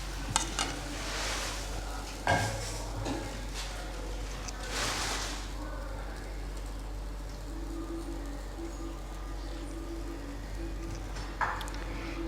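Eggless pancake batter in a buttered pan gives a soft sizzle mixed with scraping and a few sharp utensil clinks and knocks against the pan, fairly quiet and close.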